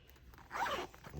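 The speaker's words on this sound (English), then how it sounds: "Zip this up." A zipper on a pencil pouch pulled shut in one quick, close rasping stroke, heard alone against a quiet room.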